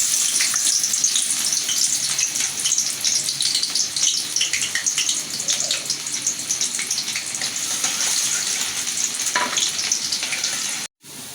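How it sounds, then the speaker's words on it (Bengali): Chopped onions hit hot oil in a pan while preparing a hilsa fish curry with taro, giving a loud, steady, close sizzle with bright crackling that runs the whole time and cuts off briefly near the end. "আমার তেলটা গরম হয়ে গেছে আমি পেঁয়াজটা দিয়ে দেবো"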